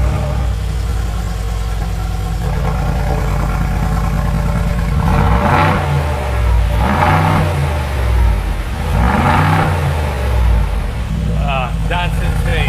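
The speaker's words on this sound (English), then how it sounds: "Yes, Shafiq, start the car." A Brabus car's engine starts and idles with a deep steady drone, then its exhaust barks through several sharp revs rising and falling in the second half, loud and near, with voices talking throughout.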